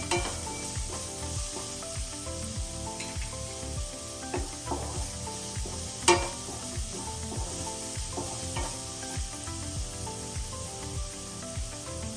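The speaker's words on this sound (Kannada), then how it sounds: "ಒಂದು 2-3 ನಿಮಿಷ ಫ್ರೈ ಮಾಡಬೇಕು" Masala fries in a pan for mixed vegetable kurma, a steady close sizzle with spoon stirring and scraping strokes in a loose rhythm and one louder knock midway, no voices over it.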